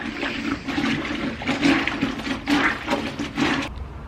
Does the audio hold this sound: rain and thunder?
no